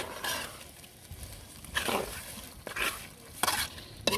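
Meat and potatoes are sautéed in a pot on a clay stove, with a quiet background sizzle broken by a few distinct bursts of scraping stirring strokes.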